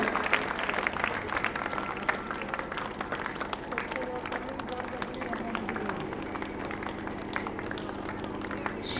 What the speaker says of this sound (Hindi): सभी तालियों का सहयोग देते रहेंगे, बच्चों का हौसला बुलंद हो जाए।